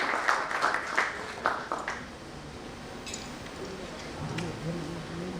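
An audience applauds a speaker on stage at a doctors' network event, a short burst of clapping that fades into murmuring room noise.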